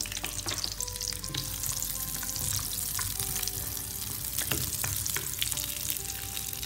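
Chopped small onions (shallots) sizzle steadily in hot oil for a fish curry, a continuous close frying crackle with occasional stirring clicks and no voices.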